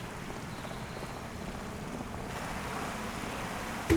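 Waves and water from Farming Simulator 25 on a new American map wash steadily in a continuous rushing, wind-like roar, ending with a brief sharp click.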